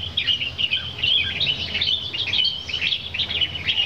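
Small birds chirp steadily, a dense chorus of bright, overlapping tweets and trills carrying loudly throughout with no voices.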